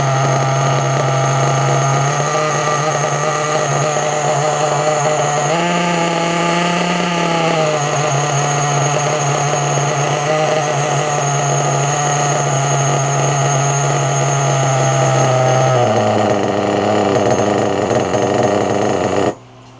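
A ready-to-run RC nitro pull-start engine runs rich during break-in, a high buzzing whine held steadily with brief pitch rises and dips as the throttle shifts, loud and close, cutting off at the end.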